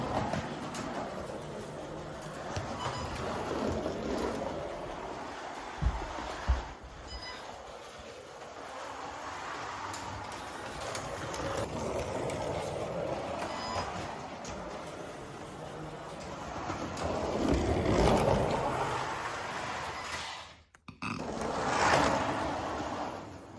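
A Carrera Mario Kart slot car, fitted with a modification, runs continuously around its track with a steady whirring rumble that swells and fades as it passes, ending with a brief drop and a final surge.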